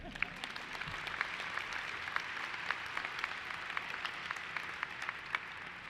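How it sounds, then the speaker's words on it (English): Commencement audience at a university ceremony applauding, a steady, fairly distant wash of many hands with a few sharper claps standing out, sustained throughout without speech. "You can clap now, that's okay."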